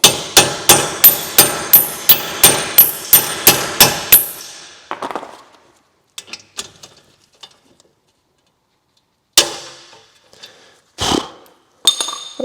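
Hammer blows strike a broken bolt on a Golf brake setup in a fast, evenly spaced run of about a dozen sharp metallic hits, then a pause with scattered clinks and a few final louder strikes, close and loud.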